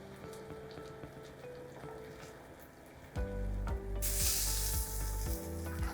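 Beef roast searing in a pan: a low steady sizzle that jumps louder partway through and keeps frying hard with crackling bursts, up close and alone.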